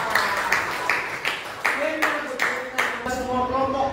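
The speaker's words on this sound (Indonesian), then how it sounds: "Tepuk tangan buat kelompok 3." Classroom students clap for group 3 in steady, evenly spaced beats, fairly loud, and voices join in toward the end.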